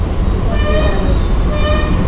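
A train horn sounds twice over a loud, steady rumble of a Vande Bharat express train rushing past nearby.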